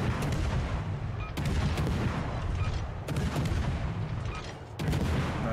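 Battleship New Jersey fires HE shells in World of Warships Legends, a loud close salvo that booms roughly every one and a half seconds. Rumbling decays fill the gaps, and no one speaks.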